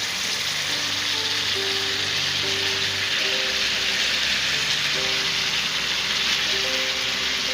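Pre-fried okra hissing and sizzling loudly in hot oil as it is added to chicken in a pan, a dense steady crackle throughout.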